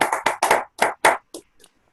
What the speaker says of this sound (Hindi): जोरदार ताली सम्मान कर